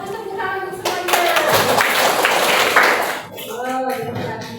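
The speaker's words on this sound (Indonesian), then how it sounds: "tepuk tangan untuk semuanya" Clapping hands from a group during an Indonesian children's lesson, a burst of claps building to a dense patter for a few seconds, with voices talking before and after.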